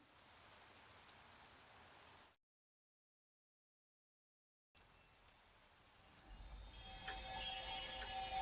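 Steady rain falls in the Chaos;Head visual novel, a soft, even patter that cuts to silence for a couple of seconds, then returns and swells louder with a hissing edge toward the end.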